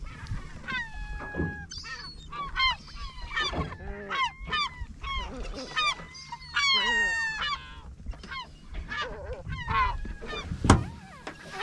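Noisy seagulls call over and over while fishing on Bjørnafjorden, Norway, overlapping squawks and cries close by, with boat engine hum and splashing water underneath.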